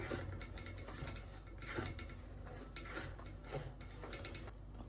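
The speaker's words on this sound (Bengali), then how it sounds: "চালের গুঁড়া এখানে ভেজে নেই একটু" Rice flour dry-roasts in a pan while being stirred, producing faint, soft, repeated scraping and rattling strokes at a quiet level, with no voices.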